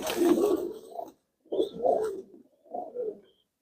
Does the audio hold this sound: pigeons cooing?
yes